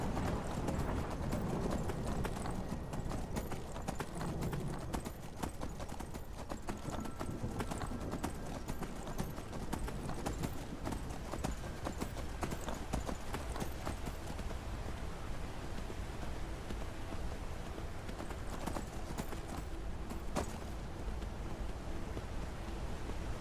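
Horse hooves clip-clop steadily in the Skyrim video game, a continuous faint trotting rhythm mixed with wind-like background noise throughout.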